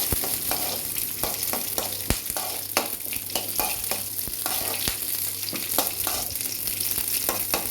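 Green chilies fry in a pan for chutney, a dense continuous sizzle close up, broken by repeated scraping and tapping as a spoon stirs them.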